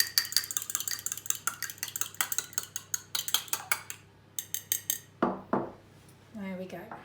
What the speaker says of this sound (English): I'm just going to use a fork to just whisk the egg together